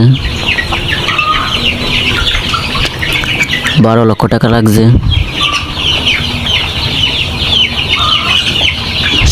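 Layer hens fill a 3000-bird shed with constant loud clucking and squawking, while someone speaks over the din, his voice rising clearly around the middle.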